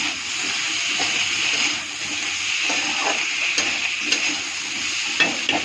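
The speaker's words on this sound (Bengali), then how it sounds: "এখন ভালো ভালো করে একটু ভাজা ভাজা করব" Egg bhaji with cumin, green chili paste and spices stir-fries in a pan, a close steady sizzle broken by scraping stirs and light clinks of the utensil, with no talking.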